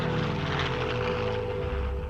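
A propeller plane's engine roars at full power during a steep climbing spiral to 15,000 feet, a loud, steady droning hum sustained throughout, with no voices.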